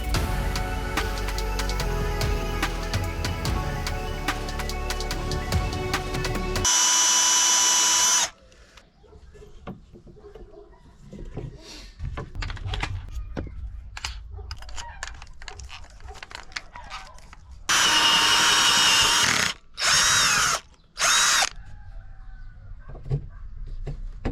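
A power drill whirs in loud bursts while an overhead shelf is fixed into a campervan, interspersed with quieter handling knocks and clatter between the drilling runs.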